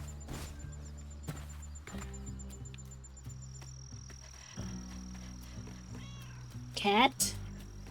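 A cat meows in the video game South of Midnight: a short, loud, wavering call near the end, with fainter cries just before it, over layered ambient music and hum.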